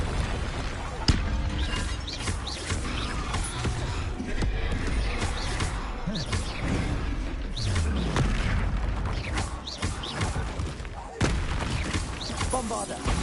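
Bombarda and Confringo spell explosions in the Hogwarts Legacy video game boom repeatedly in a dense, loud barrage of blasts and crackles over continuous combat noise, with sharp hits at intervals.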